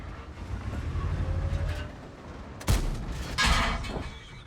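Two sharp booming tank cannon blasts from World of Tanks, fired by an Object 260, a few seconds apart, over a steady rumbling engine drone.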